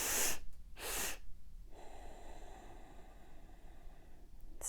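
Slow breathing during a meditation practice, two strong close breaths followed by a quieter, steady airy exhale.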